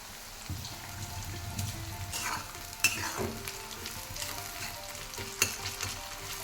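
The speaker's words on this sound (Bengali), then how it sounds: "ভালো করে ব্রাউন করে ভাজবো লঙ্কাকে আর পেঁয়াজকে" Chopped chili and onion fry in a pan until browned, making a soft, steady sizzle with a few sharp scrapes and clicks of stirring, quiet and close, with no voices.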